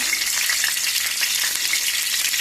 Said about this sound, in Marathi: लसूण घातली, मागीर कांदो घालपाचो भाजपाक